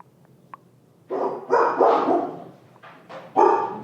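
Several dogs bark in loud, overlapping bursts after a quiet start with a few faint clicks, the barking close and excited in two or three volleys.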